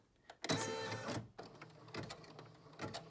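An embroidery machine stitches an outline on a fabric held in a hoop, giving close, rhythmic mechanical whirring and tapping that pulses in bursts, with no speech.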